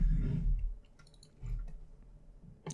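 Typing on a computer keyboard: a few quick, light key clicks scattered over roughly three seconds, close and fairly quiet, with soft low thumps between them.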